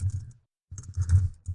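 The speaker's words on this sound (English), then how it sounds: "I'm just going to type in sequential segment" Quick keystrokes on a computer keyboard come in two short close bursts separated by a brief pause, soft clicks over a low muffled thump.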